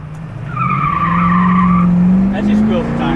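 A 1967 Ford Fairlane GTA 390 squeals its tires in a loud, sustained screech lasting a few seconds, rising slightly in pitch, with engine roar underneath.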